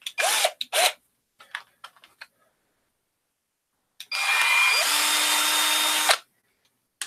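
An electric drill, used while assembling a Zonestar Z8XM2 3D printer kit, whirs in one steady burst of about two seconds after a few short clicks and handling noises, close by in an otherwise quiet room.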